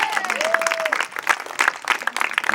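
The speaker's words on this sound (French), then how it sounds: "On applaudit Elodie aussi, il n'y a pas de raison." A crowd at a women's handball team presentation evening applauds a player, with steady, energetic clapping filling the room and a brief sliding musical tone heard near the start.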